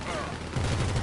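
Enemy gunfire in GTA Online, a dense burst of rapid game shots rattling close and loud through the whole short moment.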